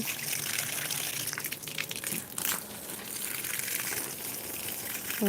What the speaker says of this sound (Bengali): বেশ ভালো লাগে পানি দিতে